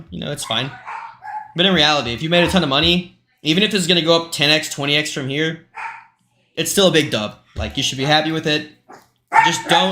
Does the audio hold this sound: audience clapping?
no